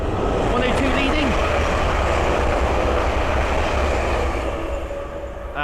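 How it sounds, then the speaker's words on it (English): A pair of East Midlands Railway class 360 electric units running from Corby to London St Pancras rush past with a loud, steady rumble and wheel noise that eases off toward the end, with a voice speaking briefly. "the next train to pass by will be a pair of East Midlands Railway 360s from Corby to London St Pancras"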